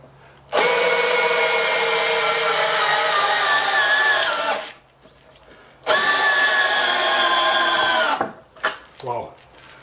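A powerful Parkside Performance PABSP 20 Li B2 20V cordless drill driver runs at full speed for about four seconds, stops, then whirs again for a couple more seconds, loud and close, with brief handling noises after.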